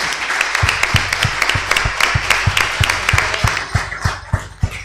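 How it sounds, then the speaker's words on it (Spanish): Audience applause at an open talk by Teresa Laborde at the Unidad Académica Caleta Olivia, a steady wash of many hands with a few louder, regularly spaced claps standing out near the microphone. "nos aplaudimos y a Teresa"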